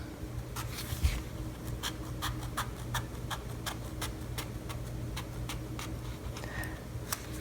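Repeated crisp snipping clicks at a steady rhythm, close up, as scissors cut a thin rubber sheet for a jar seal, with no talking.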